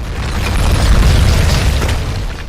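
Propane tank explosion in the video game Tomb Raider (2013): a loud, sustained booming roar with dense low rumble lasting a couple of seconds, heard alone without talk.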